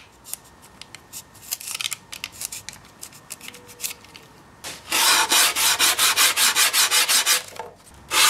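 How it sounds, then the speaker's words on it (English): Moulding tabs being cut from the landing skegs of a model plane wing, heard as scattered quiet snips followed by a loud, steady run of rhythmic cutting or scraping strokes, close up with no talking. "These little landing skegs that fit glue onto the bottom also have little moulding tabs there that need to be cut off."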